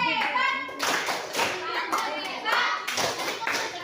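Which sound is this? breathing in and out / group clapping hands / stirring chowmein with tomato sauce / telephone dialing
group clapping hands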